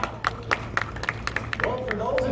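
A small audience gives a short round of scattered, uneven handclaps for a tour guide at the Trial of Jack McCall site in Deadwood, with crowd murmur rising underneath toward the end.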